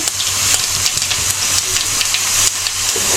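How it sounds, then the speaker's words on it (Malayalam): Paneer sizzling and frying in a pan, a steady close hiss with small crackling pops throughout, no voices over it. "പനീർ ജസ്റ്റ് ഇങ്ങനെ ഫ്രൈ ചെയ്ത് കൊടുക്കാം"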